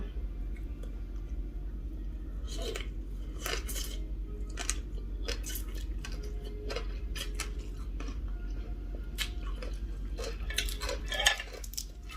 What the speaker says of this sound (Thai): วันนี้ตำมะละกอใส่น้ำปลาแม่พิมพ์แซ่บแบบทุกคน